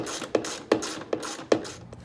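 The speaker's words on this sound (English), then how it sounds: "you're going to want to use a 7mm socket to remove all 7 of those" A hand ratchet turning a 7mm socket to back out hex bolts on a Jeep JL, giving five crisp, evenly spaced clicks close up.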